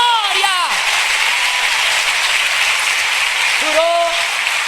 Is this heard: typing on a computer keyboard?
no